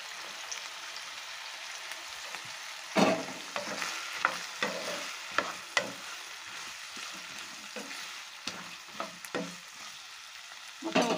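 Brinjal pieces and soaked chana dal are stirred in a frying pan, with a steady sizzle under repeated scraping stirs and a few sharper knocks of the spoon against the pan, close and without talk.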